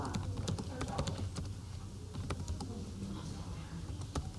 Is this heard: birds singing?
no